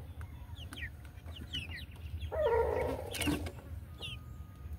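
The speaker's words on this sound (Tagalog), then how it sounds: "Indot nga na itong mga manok guys" Young pullets, a batch of seven chickens, cluck and chirp in short scattered calls over steady background hum, with a brief louder burst of activity near the middle.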